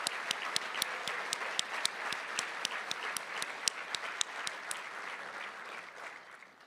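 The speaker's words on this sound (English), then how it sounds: "please stand up one more time so we can give you a big round of applause for your leadership" Audience at the Spokane State of the City event applauding steadily, a dense sustained wash of clapping with a few sharper claps standing out, tapering slightly toward the end.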